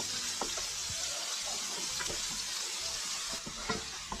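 Shallots and sugar caramelizing in a pan for Vietnamese caramelized pork belly, sizzling steadily with scattered sharp crackles and occasional scrapes as they are stirred, close and moderately quiet, no voices.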